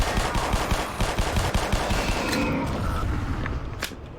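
Rapid automatic weapon fire from the game Black Mesa, rattling off in quick repeated bursts, loud and close, then thinning out near the end with a couple of sharp single shots.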